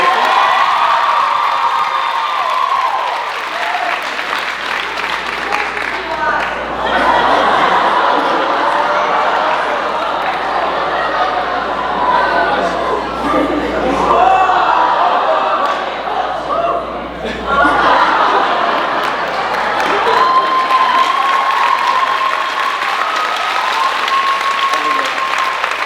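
A large audience at a college kickline show breaks into loud, sustained applause mixed with whoops and cheers, rising and falling over many seconds with voices shouting through it.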